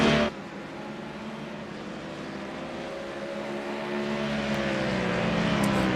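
A Ford Mustang GT3 race car in a racing game, its engine note droning steadily and slowly climbing in pitch as it accelerates, loud and continuous with no talking.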